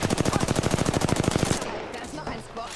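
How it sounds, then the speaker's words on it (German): Rapid automatic gunfire from the battle royale game Apex Legends, a fast regular burst of shots lasting about a second and a half, then cut off and followed by softer game noise. "Ich werde beschossen."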